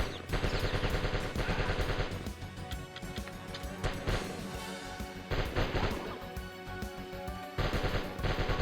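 Video game gunfire rattles in repeated loud bursts over a busy backdrop of game sound, close and dense throughout.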